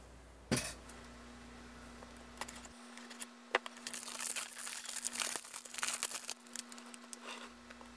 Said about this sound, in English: let us remove the price tag. Let us remove the plastic around it.